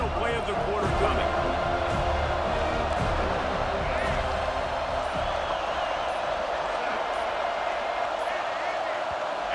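Dense, steady roar of a stadium crowd in College Football 26, a ranked head-to-head online match, filling the whole stretch loudly with commentary voices running over it.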